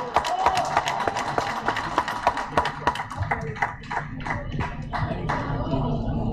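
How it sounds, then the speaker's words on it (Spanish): Audience applause at an indoor event as a speaker comes onto the stage, a dense burst of clapping that thins into scattered, separate claps, with voices faintly underneath. "Un aplauso para Mari."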